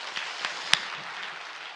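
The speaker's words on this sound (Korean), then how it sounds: "그분에게도 박수." A church congregation claps briefly at an early morning worship service, a few scattered soft claps with one sharper clap, fairly faint in a quiet room.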